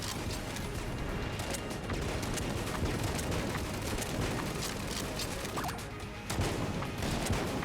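Constant barrage of gunshots mixed with bursts of explosions in the Enter the Gungeon dungeon shooter, loud and busy throughout with a heavier blast near the end.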